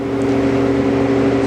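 A 2005 Haas VF2SS three-axis vertical machining center runs with a steady, close mechanical hum and whir of even pitch, with no talk over it.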